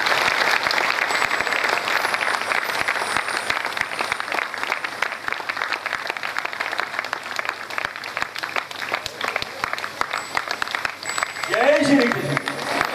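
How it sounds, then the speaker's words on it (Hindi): Sustained audience applause welcoming a speaker at a Shrimad Bhagavat Katha religious discourse in Maharashtra, a dense, steady clapping texture filling the hall with a brief voice near the end. "जोरदार तालियों से स्वागत किया।"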